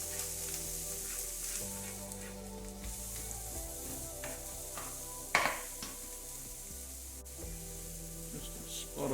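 Onions, garlic and ginger fry in a pan with a steady close sizzle, broken by a few soft stirring scrapes and one brief sharper clink partway through.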